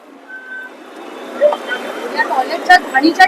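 Reversing beeps from a vehicle backing up on a street in Badlapur, a series of sharp electronic tones that grow louder and quicken, heard over low traffic rumble and nearby voices.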